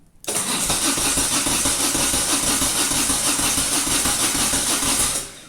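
A Moto Guzzi Breva motorcycle engine cranks over steadily with the ignition on, a loud continuous churning whir that starts abruptly and runs for about five seconds before cutting off.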